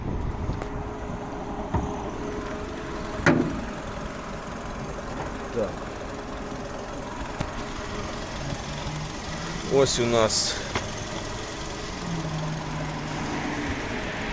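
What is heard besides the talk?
1.6 MPI petrol car engine idling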